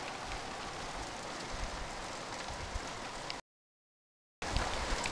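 Hail falls steadily outdoors in early September, a dense hiss of pelting ice with a short gap of silence before it resumes.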